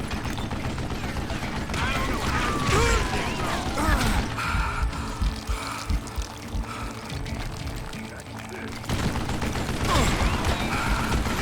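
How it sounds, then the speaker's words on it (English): Mechanical clicks and ratcheting of a gun being reloaded in Call of Juarez Gunslinger sit over a busy, noisy game background with scattered gunfire. "Damn, I gotta reload."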